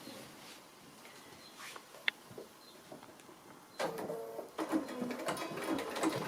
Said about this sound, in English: So I'm just going to sew now.